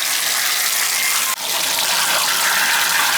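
Water rushes steadily from an American Standard tub and shower faucet, a loud, even hiss with one brief dip partway through and no talking.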